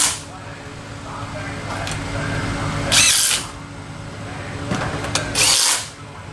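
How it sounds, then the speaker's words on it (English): A power tool whirs steadily while tightening the wheel nuts on a G-Force 5-speed race car wheel, with two sharp louder bursts of impact rattling and people talking over it. "We're tightening up a wheel."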